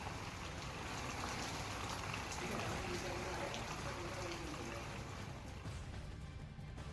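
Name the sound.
rain falling with snowfall in Uttarakhand mountains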